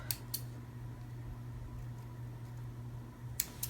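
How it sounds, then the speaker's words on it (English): Scissors snip into sewing fabric for a custom water bottle cover, two quick crisp cuts near the start and another pair near the end, close and fairly quiet over a steady low fan-like hum. "Just put a small 1/4 inch, 3/8 inch cut, a snip"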